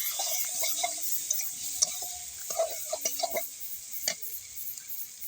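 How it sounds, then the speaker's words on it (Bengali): Fish oil frying with ground spice paste while being stirred, faint sizzle under scattered sharp clicks and scrapes of a utensil against the pan, with a few soft tonal background sounds. "তখন আরেকটু নাড়াচাড়া করে আমি কিন্তু বাটা মশলাটা এখানে দিয়ে দেব"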